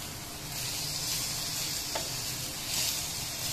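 Chicken stock cube and ginger paste frying in a pan make a soft, steady sizzle with a brief clink in the middle and no talking.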